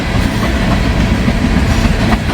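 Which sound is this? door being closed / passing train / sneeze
passing train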